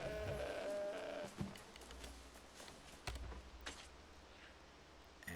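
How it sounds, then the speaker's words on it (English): A Dusty Ram sheep in the video game New World lets out one drawn-out, faint bleat, followed by soft scattered footsteps and light clicks in a quiet scene. "That sounds like a sheep."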